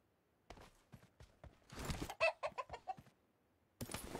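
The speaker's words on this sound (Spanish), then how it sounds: "Y ese pollo. Y ese pollito." A chicken clucks in the video game PUBG, a string of close, sharp clucks and squawks with brief pauses, ending in a burst of scuffling noise.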